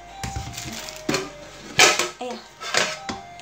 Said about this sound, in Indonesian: Nih ini saya ambil wajan baru